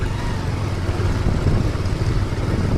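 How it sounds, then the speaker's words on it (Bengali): Steady, close motorbike engine drone with broadband road rumble as the bike rides along an old dirt track beside the abandoned railway line toward Bahadurabad Ghat, continuous with no voices. "আমরা এখান দিয়ে কিন্তু বাইকে করে যাচ্ছি সেই ঘাট পর্যন্ত"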